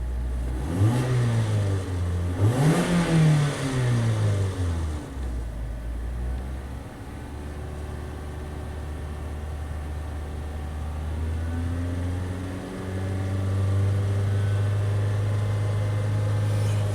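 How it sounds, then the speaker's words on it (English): A Mazda engine that idles poorly and runs rich gets two short throttle blips, rising and falling sharply, then settles into a steady, even idle hum heard up close with no talking. "We'll give it a little bit of throttle so we're back in fuel control there."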